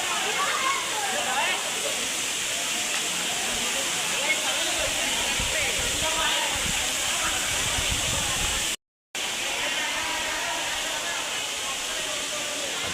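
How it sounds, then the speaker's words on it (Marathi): Steady, dense rush of a waterfall at Kondhane caves in Karjat, loud and continuous throughout with no break in the roar apart from a brief dropout near the end. "सुंदर पाण्याच्या धबधब्यात तुम्ही पाहू शकता."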